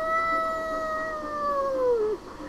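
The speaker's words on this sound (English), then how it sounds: "you again hear that howl." A long, wavering howl rings out as a sound effect during a tabletop role-playing game, a single sustained wail that slides downward and cuts off after about two seconds.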